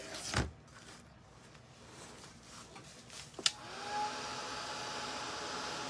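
A hair dryer switches on near the end and blows with a steady whoosh while drying paint on a painted snowflake, after some quiet handling knocks and clicks.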